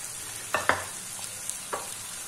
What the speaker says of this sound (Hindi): और अब साथ ही हम अपने टमाटर ऐड कर देंगे